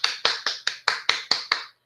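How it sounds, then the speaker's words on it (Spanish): About eight distinct claps in a slow, even rhythm over under two seconds, close and fairly loud, from a small audience closing an online talk on fiscal federalism. "un aplauso"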